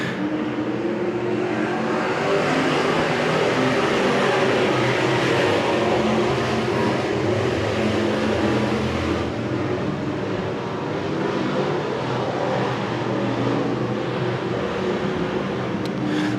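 Stock cars race around Winston Speedway, including a red number 91 car, in a loud, continuous engine roar that swells and drones for the whole stretch without any talking.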